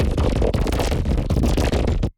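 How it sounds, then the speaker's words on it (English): Dense rumbling sound effect of earth moving and rocky debris, a continuous gritty roar of grinding and tumbling stone with scattered crunchy hits, loud and close, cutting off abruptly. "So that's kind of like the sound of like earth moving and, you know, some rocky debris and things like that."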